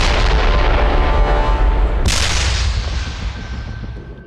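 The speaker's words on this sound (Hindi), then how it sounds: "तेजी से कार में धमाके के साथ मिसाइल घुस गई" A loud, sustained blast roars as a Hellfire R9X missile fired from a drone strikes a car in Syria, then a sharp second impact cuts in and the noise slowly fades away.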